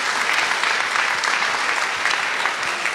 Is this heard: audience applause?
yes